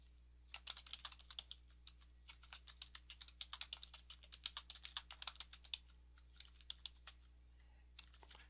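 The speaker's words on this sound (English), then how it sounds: "and then type in your email address, and then type in your site name" Steady typing on a computer keyboard, a quiet run of close, crisp key clicks with brief pauses, heard alone with no voices while details are entered into a WordPress install form.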